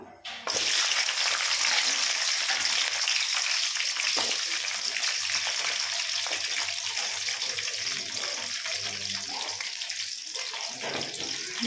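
Green chillies and onion dropped into hot oil tempering for a mutton curry burst into a loud, steady sizzle with fine crackling that carries on without pause.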